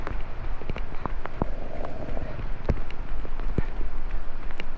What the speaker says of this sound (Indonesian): Terus hujannya berat di baju, celana sama di sepatu.